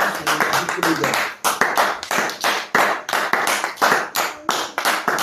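A church congregation clapping in acclamation of the Lord during worship, a steady, loud rhythm of many hands beating together, with voices singing and calling underneath throughout.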